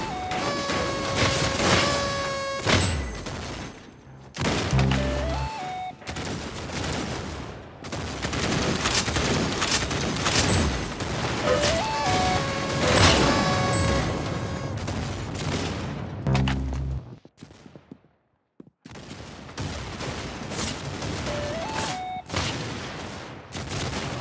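Rapid gunfire bursts and explosive hits in the Roblox game Arsenal, with sustained automatic firing over game music, loud and dense, broken by a short near-silent gap before shooting resumes.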